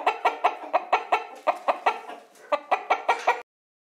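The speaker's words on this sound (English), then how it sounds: "Hen clucks." A hen clucks in a steady series of about a dozen sharp, close calls, evenly paced with a brief lull before the last few.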